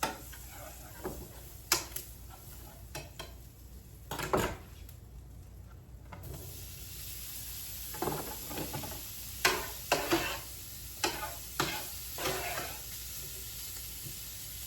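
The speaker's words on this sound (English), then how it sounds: "we're gonna saute our sausages" Sausages sautéing in a pan for Southern-style cabbage soup: a low steady sizzle with several sharp clatters and scraping bursts of stirring, fairly quiet overall, with no talk.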